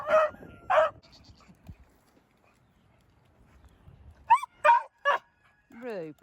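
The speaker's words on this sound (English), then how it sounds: "Rupert, you are a loud boy" Beagle barking in short bursts, a couple of loud yelps at the start and a cluster of sharp barks near the end, with a voice talking between them and chickens nearby.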